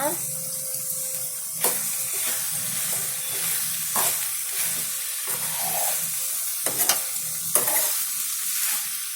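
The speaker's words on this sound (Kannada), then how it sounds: "ಈ ತೆಂಗಿನಕಾಯಿ ತುರಿನ ಕೂಡ ನಾವು ಚೆನ್ನಾಗಿ ಕಲಿಸ್ಕೊಳ್ಳೋಣ." Grated coconut is stirred into Bangalore brinjal curry frying in a pan, with a steady close sizzle broken by repeated scraping, clinking stirs at an uneven rhythm.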